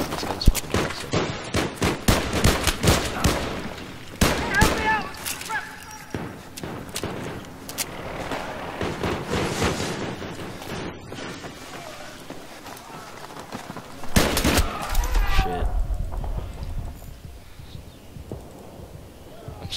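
Rapid gunfire from a Battlefield 3 gun game match, bursts of loud automatic shots with sharp cracks spread throughout, heaviest near the start and again toward the end, over a steady game soundscape.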